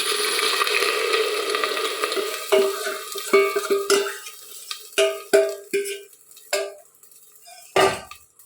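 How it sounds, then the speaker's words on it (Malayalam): Batter is poured into a cooker heated on full flame and hisses loudly at first. Sharp metallic scrapes and clanks of a utensil follow in short bursts as the sizzle fades. "ഫുള്ള് തീയിൽ വെച്ചിട്ട് മാവ് ഒഴിച്ചു കൊടുക്കുക."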